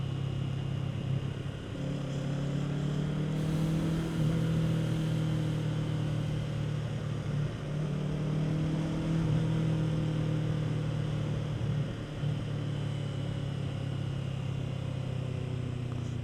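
A Kawasaki Z650 motorcycle ridden along the road from Brijesta to Zaradeže gives a steady, close engine drone with wind rush. The pitch holds fairly even throughout, and no one talks.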